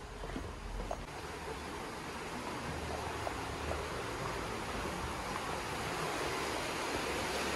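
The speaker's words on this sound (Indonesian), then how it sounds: "Karena airnya lagi mati, jadi Mang Dii wudu di sungai" River water flowing steadily during ablution at a riverside in Bogor, a broad, even rushing wash that stays constant throughout, with no voices.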